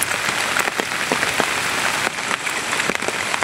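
Rain falls steadily on a water-lily pond during village fishing, a continuous patter of drops on the water's surface with scattered louder splashes close by, no voices heard.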